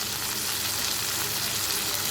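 Potatoes fry in a pan with turmeric and ground roasted cumin and coriander, giving a steady, fairly quiet sizzle and crackle with no speech.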